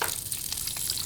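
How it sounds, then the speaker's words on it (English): Diced white onion sautéing in olive oil in a Dutch oven, giving a brief, bright, crackling hiss heard up close with no voices. "We're gonna add a little bit of olive oil and then get going with our aromatics"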